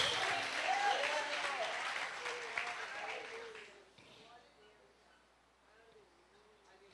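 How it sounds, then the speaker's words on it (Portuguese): Applause from a church congregation, loud at first and then fading, with a preacher speaking over the clapping. "Aplauda o Senhor Jesus."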